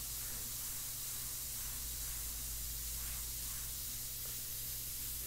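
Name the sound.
airbrush spraying India ink on paper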